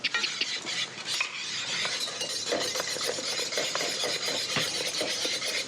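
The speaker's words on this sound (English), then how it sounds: "And then pop it back on the heat and then start whisking" A whisk beating mashed potatoes with milk and butter in a pan back on the heat, a busy scraping, clinking metal rhythm running steadily throughout at close range.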